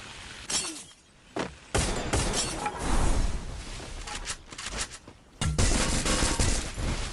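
Gunfire in the mobile shooter Free Fire, loud sharp bursts of automatic shots and cracking impacts coming in clusters with brief pauses, along with some glassy breaking sounds.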